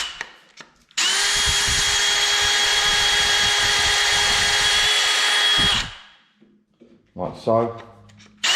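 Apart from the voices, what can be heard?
drill with reamer boring out plastic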